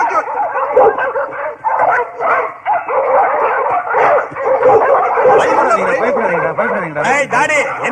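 Dogs bark, yip and whimper continuously in a comedy film scene, loud and close, overlapping with people talking throughout.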